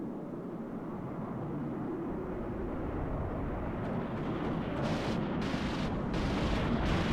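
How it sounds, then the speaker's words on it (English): A Su-25 rocket strike in the strategy game WARNO, a dense continuous roar of rockets and explosions that builds over several seconds, with sharp bursts of brighter crackle near the end. "SU-25 rocket coming in, I assume, for the Apache."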